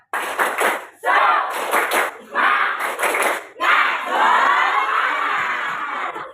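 A classroom of students doing a rhythmic spirit clap in bursts of fast, loud, patterned clapping mixed with shouting, followed by a longer stretch of crowd cheering, all close and loud.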